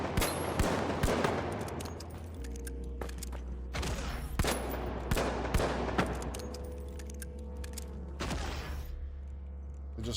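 A Magnum fires in the shooter game The Finals, giving sharp, close gunshot cracks spaced irregularly, some in quick pairs, over a steady low in-game hum.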